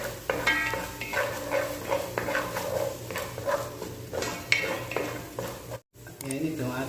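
Tomato paste sautéing in a pan for chicken afritada, steady sizzle under repeated scraping and stirring of a metal utensil against the pot, with brief clanks and a momentary dropout near the end.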